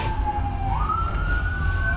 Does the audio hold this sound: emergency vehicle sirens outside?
yes